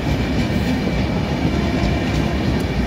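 The Odisha Sampark Kranti Express, running from Bhubaneswar to Anand Vihar, rolls past loud and close as a dense, steady rumble of wheels and coaches with a faint rhythmic clatter.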